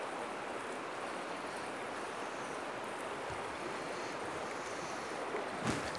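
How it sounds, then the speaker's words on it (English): Shallow water flows over the Leven River at Loonganna in Tasmania as a soft, steady rushing hiss, faint and even, with a brief splash or knock near the end. "lots of shallow flowing water"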